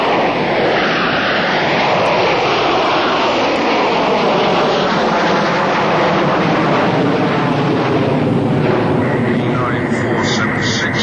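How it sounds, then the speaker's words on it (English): A fixed-wing airliner on runway 28 left roars loudly and steadily throughout, a broad continuous engine rush with a swelling tone as it accelerates for takeoff, under radio chatter from the tower. "you are cleared for takeoff. Runway 28 left, surface wind is 220 at 8 knots."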